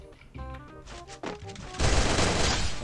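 Rapid gunfire in the Free Fire battle royale game: a burst of several close, sharp shots, then a dense, loud crackling volley that keeps going to the end.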